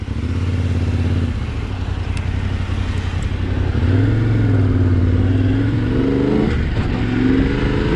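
A Yamaha Tenere T700 or KTM 790 Adventure R adventure motorcycle on a test ride, engine droning loudly and steadily close by, pitch rising and falling as it accelerates and shifts, no talking.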